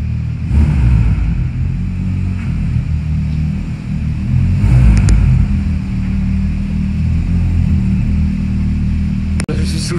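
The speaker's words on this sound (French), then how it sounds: "Il y a une GT3 RS qui arrive." A Porsche GT3 RS sports car passes nearby in Baden-Baden, its engine giving a loud, steady low rumble that swells briefly midway before easing, with no talk over it.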